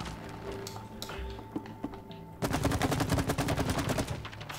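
Video game gunfire in It Takes Two, a rapid burst of repeated shots starting halfway through and continuing loudly to the end, over quieter game ambience.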